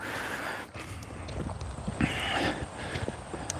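Two horses on a small New Zealand farm, hooves clip-clopping in uneven, quiet steps amid faint background noise over a few seconds.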